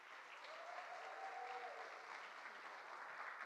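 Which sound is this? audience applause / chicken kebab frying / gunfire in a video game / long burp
audience applause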